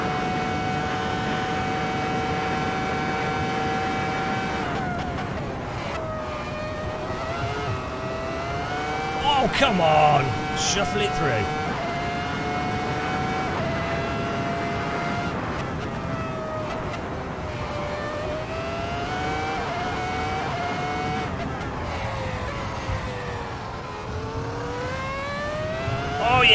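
A race car in Assetto Corsa, a larger, more powerful and louder version of a Skip Barber open-wheel racer, revs up and down through repeated gear changes at close range, its tone rising and falling continuously while someone talks over it.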